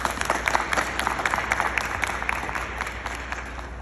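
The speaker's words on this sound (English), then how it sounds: "a great round of applause." An audience at a women veterans panel applauds Representative Johnson with an even, sustained round of many hands clapping at moderate distance, with no talking over it.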